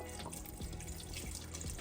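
Water runs steadily from a kitchen tap into an Instant Pot inner pot, a continuous close splashing rush with no voices.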